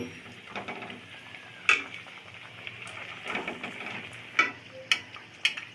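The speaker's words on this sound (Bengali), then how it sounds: "সাত থেকে আট মিনিট সবজি পকেটগুলি ভেজে নিব" Vegetable pockets sizzle in hot frying oil with a faint, continuous hiss, broken by a few sharp clicks and pops close by.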